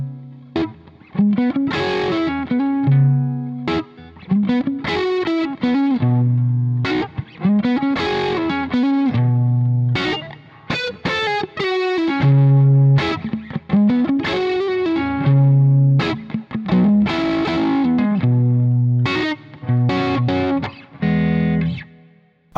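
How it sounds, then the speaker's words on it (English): An electric guitar runs through a Red Gizmo fuzz pedal rolled back to a fat, thick overdrive, playing a repeating riff of chugging low notes and chords, loud and saturated, with no talk. "you've just got this really nice fat sort of overdrive sound"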